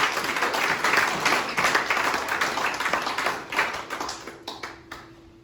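Congregation applauding during a church worship service, dense sustained clapping from many hands that gradually tapers off, with a faint held tone lingering underneath near the end.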